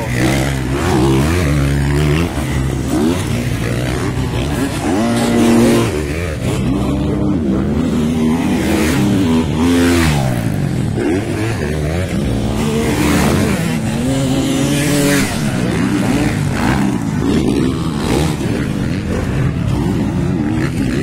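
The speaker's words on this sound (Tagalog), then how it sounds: "Sayang si Philip Pibilio, medyo may problema ang kanyang motor." Racing motorcycle engines roar continuously in an intermediate-class heat, revving up and down in pitch as they pass, loud and sustained for the whole stretch.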